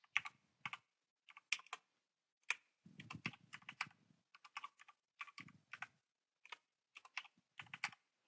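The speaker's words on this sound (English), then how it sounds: "So I'll just type in" Numbers tapped on a computer keyboard in a quiet room, several short bursts of crisp keystrokes separated by brief pauses, close and clear with no talking.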